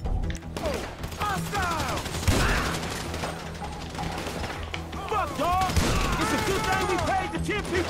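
Shotgun fire in Grand Theft Auto V blasts repeatedly among continuous game gunfire and chaotic mission noise, loud and dense throughout, with a voice talking over the action.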